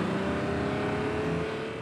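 Car engine droning steadily close by with a low rumble and faint revving, continuous throughout with no talk.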